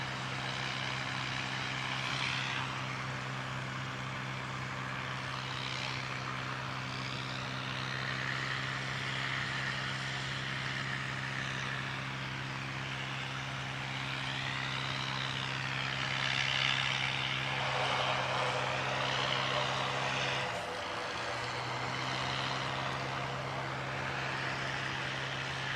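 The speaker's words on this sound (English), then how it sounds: "Jetstar arrival from Cairns" A Jetstar airliner arriving from Cairns at Christchurch Airport, its engines a steady continuous roar with a drone that swells and shifts over about twenty-five seconds, heard from a distance with no talking.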